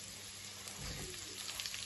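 Onions and garlic frying in a pan for a chicken stir-fry with noodles, a steady soft sizzle with a brief swell in the middle, close and fairly quiet, with no talking.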